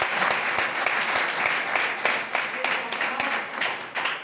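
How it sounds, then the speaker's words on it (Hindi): An audience claps enthusiastically in sustained applause, individual sharp claps standing out in the steady patter throughout. "तो एक बार मेरे लिए अभी आप लोग जोरदार तालियां।"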